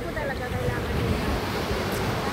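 Sea waves wash steadily onto the shore, a continuous close surf roar mixed with wind buffeting the microphone.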